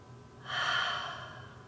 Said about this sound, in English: each breath that you deeply take as you breathe in, up,